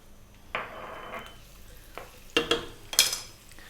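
Onions and garlic in olive oil in a frying pan over medium heat, a soft sizzle broken by several sharp clinks and scrapes of a utensil stirring against the pan, up close and without speech.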